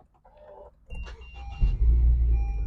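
A 2019 Honda HR-V starting from its red push button: a brief click and whir, then the engine catches and settles into a steady low idle, close and alone.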